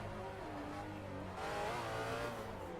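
Race car drifting in a video game without the handbrake, a steady, sustained engine drone with shifting revs and tire noise, continuous and loud throughout with no voice.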